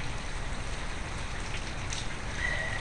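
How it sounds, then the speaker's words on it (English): Steady rain falling, a continuous soft hiss of drops on surfaces with an even texture throughout, no speech over it. "it's raining."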